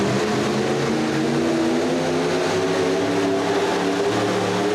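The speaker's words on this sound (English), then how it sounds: "Next up, Robert Brown, Southern General 1973 Ford F-250" A 1973 Ford F-250 pulling at a Pro Stock 4x4 truck pull in Ocala, its engine roaring loud and continuous at full throttle, pitch climbing slightly as the run goes on, with no voices over it.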